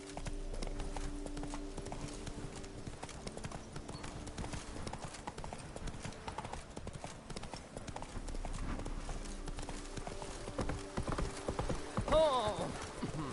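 Horse hooves clip-clop at a steady gallop rhythm in The Witcher 3 game, close and continuous under game sounds, with a voice urging the horse on and a brief whinny-like rise near the end.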